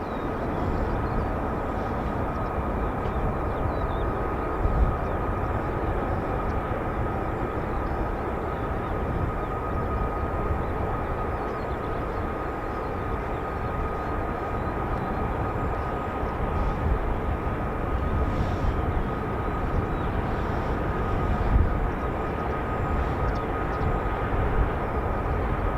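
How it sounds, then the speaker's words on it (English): F-35 fighter jets fly around RAF Lakenheath, home of the 48th Fighter Wing, as a continuous broad jet roar holds steady and somewhat distant for the whole stretch, with no talk. "Sounds like F-35s that I can hear in the background"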